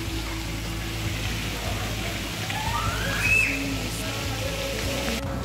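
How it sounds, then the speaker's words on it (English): Rain patters steadily as a soft background hiss under a low hum, with a faint siren-like tone drifting through partway. "now it's raining. It's raining all over."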